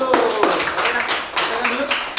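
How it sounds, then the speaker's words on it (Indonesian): A class of students clapping their hands together, a quick run of bursts mixed with voices talking loudly over it in a classroom. "Oke, tepuk tangan dulu."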